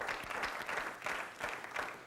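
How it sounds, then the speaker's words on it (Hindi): Studio audience applause on a television game show, a fairly faint, steady patter of many hands clapping with no clear speech over it. "जोरदार तालियां"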